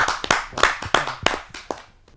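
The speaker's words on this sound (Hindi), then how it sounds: "आइए जोरदार तालियों से स्वागत करते हैं।" An audience at a Hindi poetry gathering claps to welcome a speaker, a short burst of distinct, fairly close hand claps that thins out and fades within about two seconds.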